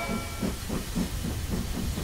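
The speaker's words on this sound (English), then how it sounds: "Mr. Train is going right." Cartoon train chugging along with a rhythmic hissing steam puff pattern, steady regular beats over a constant rumble, moderately loud with no talk.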